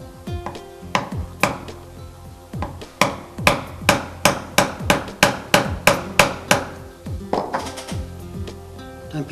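A mallet strikes a chisel while gouging wood to cut dovetails, giving a steady series of sharp, close knocks, some spaced out and others coming in a quick even run, with no talking.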